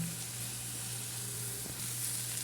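Hot and Kashmiri chilli powders sautéing in a pan for paneer butter masala, a soft, steady sizzle and hiss, fairly faint and continuous with no talking.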